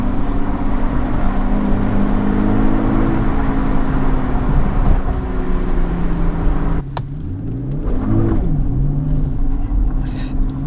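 Aston Martin DB11 accelerating hard in third gear with the rear wheels spinning, a loud steady engine drone with rising and falling pitch sweeps near the end, recorded close from inside the car.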